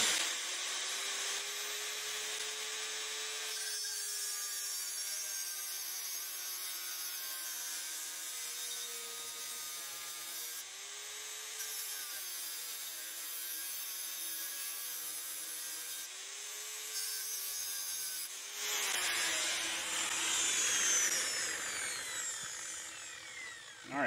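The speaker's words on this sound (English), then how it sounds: "Big green grinder." A big green angle grinder cuts trailer inner frame parts in a long, steady grinding whine with slight pitch dips as the disc loads, brightening into a harsher rasp near the end.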